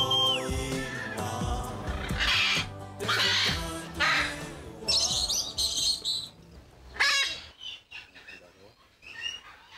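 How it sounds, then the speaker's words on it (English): Parrots, including cockatoos and macaws, give loud, harsh calls and shrieks in repeated bursts over a noisy, music-like background, sounding close and prominent. "Each parrot has his own vocalization, but the most important thing is to make a lot of noise."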